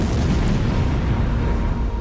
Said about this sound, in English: The ship is obliterated in an enormous explosion that kills half her crew instantly.